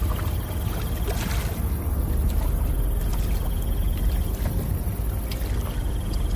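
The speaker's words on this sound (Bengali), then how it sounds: "পলাশ নৌকার দাঁড় টানতে শুরু করে দেয়।" A boat is rowed with oars on a river in a cartoon, giving steady water sloshing and splashing with soft wind, continuous and fairly close, without speech.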